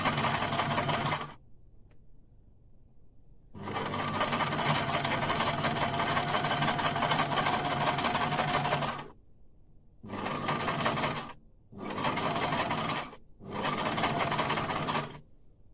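A sewing machine stitches thick microfibre towel fabric for a scrunchie, a loud close whirring buzz in a long run, then several shorter bursts separated by brief silent pauses.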